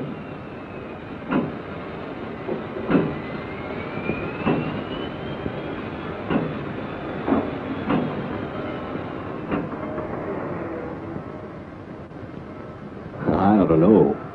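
A Norfolk and Western Railway freight train from 1950 rumbles past with regular clattering wheel knocks, ending in a louder, brief burst of noise.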